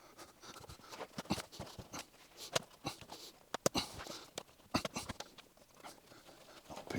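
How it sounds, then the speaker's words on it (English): Old, worn cardboard is pulled out of a 40-year-old car seat while the seat is pressed down: irregular close scraping, tearing and rustling bursts with sharp crackles, uneven in rhythm throughout. "I'm just pushing down on the seat and pulling out the cardboard"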